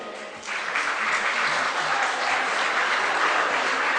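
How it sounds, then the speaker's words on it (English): Wedding guests break into a loud, sustained round of applause for the best man and matron of honour at a reception entrance, the clapping swelling after a quiet half-second start and staying steady throughout. "a loud round of applause for Bill and Janine"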